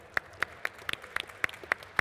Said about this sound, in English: Round of applause for Harrison.